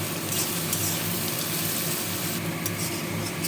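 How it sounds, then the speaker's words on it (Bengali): Onions fry in a pan with a dense, steady sizzle and crackle throughout, close and constant with no voices. "পেঁয়াজটাকে আমি ভেজে নেব।"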